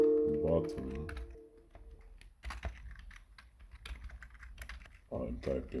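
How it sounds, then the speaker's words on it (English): Keystrokes on a computer keyboard come in quick irregular bursts, close and fairly quiet, with someone talking over the start and end. "I'm typing"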